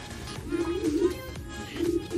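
Pigeons coo in a loft with racing birds, low soft rolling calls repeated a few times against a busy murmuring background of other birds.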